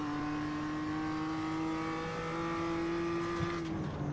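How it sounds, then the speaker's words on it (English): BMW M2 Cup race car in the iRacing sim, engine note climbing steadily at high revs as it pulls through the gears, then a quick drop near the end, loud and continuous with no talk. "He might get 2 more as he goes up through the gears of the BMW M2 and then down 1 gear"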